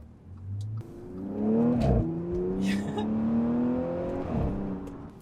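An Audi S5 accelerates at full throttle, its engine note climbing steadily, briefly dropping at a gear change, then rising again before a second shift. The engine is loud and close, heard from inside or near the car with no speech.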